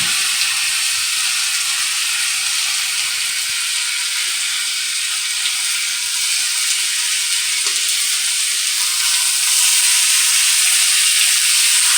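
Chopped bitter gourd sizzling and frying in hot oil in a pan, a loud, dense, continuous crackling hiss held steady throughout with an occasional faint clatter of stirring, no voices.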